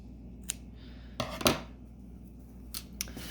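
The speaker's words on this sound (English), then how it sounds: "And then cut the excess yarn." Scissors snip through excess raffia yarn on a crocheted mesh bag, a few short crisp cuts spread out in a quiet room, close and clear.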